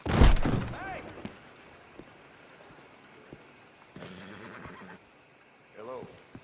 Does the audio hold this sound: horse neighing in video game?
yes